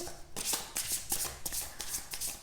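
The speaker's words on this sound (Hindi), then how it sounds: "यहाँ पर पहले तो आपके लिए कार्ड शफल होंगे, डेक शफल होगा" A deck of tarot cards being shuffled close up, with a steady run of riffling, flapping bursts and soft taps, no talking.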